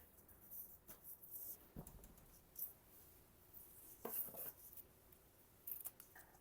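Scissors snip a strip in half for a steampunk junk journal, giving a few quiet crisp cuts with soft paper rustling between them, close and faint, with no talk.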